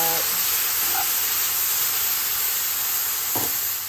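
Food frying in a pan gives a steady, close, broadband sizzle and hiss, loud and continuous throughout, with a couple of faint clinks.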